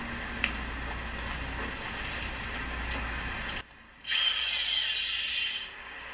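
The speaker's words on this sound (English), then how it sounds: "I'm going to try to drill it first" A power drill bores into hard, compacted soil, a steady close grinding whir that cuts out briefly and then returns as a brighter, higher-pitched spin before stopping.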